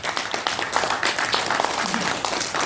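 An audience at a Buddhist monk's special lecture bursts into dense, lively applause, many hands clapping at close range for a few seconds without letting up.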